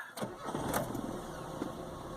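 A warm 1989 Austin Metro City engine cranks briefly and catches, settling into a steady close idle that continues to the end without any talk.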